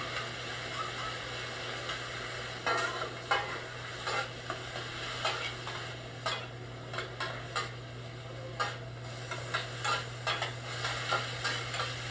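Cheesesteak meat cooks on a restaurant griddle, a soft sizzling bed overlaid with repeated metallic spatula scrapes and clicks coming in an irregular rhythm, moderately close, under a low steady hum.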